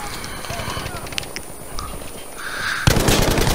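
Browning MMG machine gun firing in the Battlefield 5 video game, heard as rapid rhythmic bursts of gunfire with explosive shots, growing louder and denser toward the end amid battle noise.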